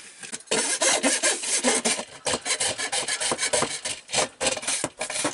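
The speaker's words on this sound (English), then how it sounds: "Now I gotta get my saw, come in here and cut that pipe off." A hand saw cuts through a pipe under an RV sink, close and loud, in quick rasping back-and-forth strokes with brief pauses between bursts.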